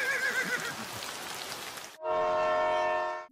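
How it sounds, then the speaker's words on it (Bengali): A cartoon train sound effect in a Bengali children's rhyme: a hissing, rushing chug for about two seconds, then a loud, steady, sustained train horn blast. "ঝকঝকাঝক ট্রেন চলেছে রাত দুপুরে"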